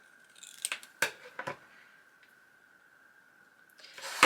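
Scissors cutting out a paper postcard embellishment for a travel journal, a few close, crisp snips in quick succession followed by a pause, then rustling paper.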